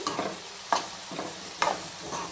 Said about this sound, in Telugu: ఇలా ఒకసారి మొత్తం ఈ కర్రీలోకి కలిసేలాగా కొబ్బరి కలుపుకోవాలండి